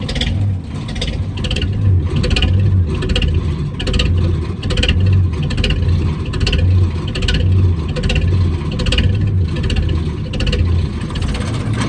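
Old Leyland Royal Tiger Worldmaster bus diesel engine idling very slowly, a loud, close, steady low chugging with an even, slow rhythmic pulse throughout.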